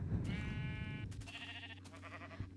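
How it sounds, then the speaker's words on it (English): A sheep in the video game Minecraft gives a couple of wavering, nasal bleats, clear and close over a steady low background hum. "It's a sheep."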